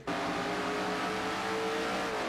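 Race cars in a NASCAR-style racing video game roar through a sequence of S-curves, a loud, continuous engine drone with steady high revving, close and sustained with no voices.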